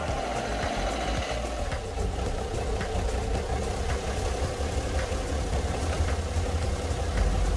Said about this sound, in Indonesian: Proses menghidupkan mesin mobil ini bertujuan untuk mengeringkan air yang terdapat ataupun yang terjebak pada ruang mesin mobil ini